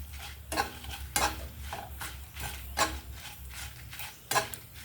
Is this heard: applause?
no